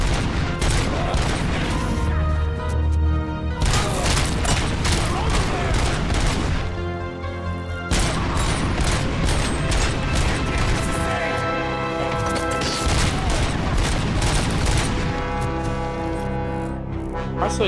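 Near-constant gunfire from a wide-spread weapon in RoboCop: Rogue City, loud dense volleys with crashing impacts, a short break around the middle, and a voice talking over parts of it.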